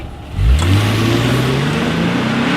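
A 2019 Lexus IS 300 F Sport's V6 pulls hard under acceleration from inside the cabin, a steady rising engine drone climbing smoothly in pitch without a break.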